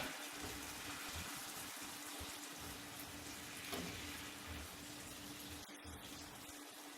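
Pear juice, 100% with no sugar added, pours steadily into a cast iron skillet beside pork chops for a cognac pear sauce, a continuous close liquid gush with no talk.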